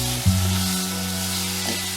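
Fresh curry leaves hit hot oil already cooking softened tomatoes, onions and ginger-garlic paste for a jackfruit-seed gravy, a sharp crackling burst followed by a steady, loud sizzle heard close with no talk.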